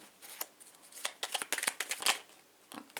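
A deck of tarot-style cards being cut and shuffled, with a series of quick papery riffles and soft flicks, close and fairly quiet, alone without talk.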